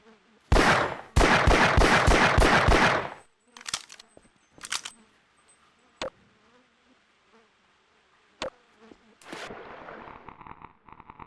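Rapid gunshots in Half-Life, a loud close burst of repeated shots early on, followed by scattered single impacts and clanks at a barrel amid quieter game ambience.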